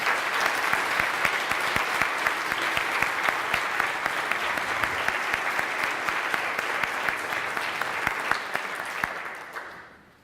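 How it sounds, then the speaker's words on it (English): Audience at a university social justice missioning ceremony applauds parents and families, a steady wash of many hands clapping with scattered sharper claps, sustained for about ten seconds before fading out. "So please join me in a round of applause for them."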